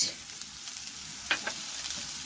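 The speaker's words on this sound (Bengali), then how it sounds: "ক্যাপসিকাম ডাইস করা ক্যাপসিকাম দিয়ে মিনিট দুইয়ের মতন ভালো করে নাড়াচাড়া করে নেব" Sliced onion and diced capsicum stir-fried in a pan for chicken patia, giving a constant bright sizzle with a brief pair of spatula scrapes midway.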